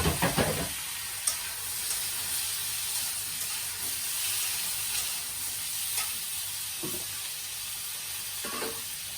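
Potatoes and sliced onion fry in a hot pan with oil, giving a steady, close sizzle with a couple of light clinks near the start. No one speaks.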